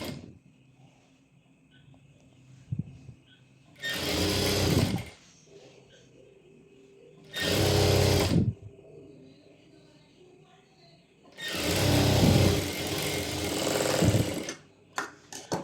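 A sewing machine stitches a garment lining in three loud whirring bursts, each a few seconds long, with quiet pauses between them and faint handling noise.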